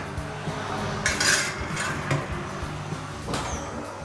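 A baking tray of salted prawns being slid into a home oven, with metallic clatter and scraping against the oven racks over kitchen background noise and no voices.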